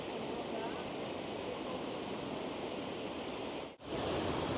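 Niagara Falls, seen from the American side with its flow regulated by an upstream dam, roars as a steady, dense wash of loud broadband water noise that fills the whole span, with a brief dip near the end.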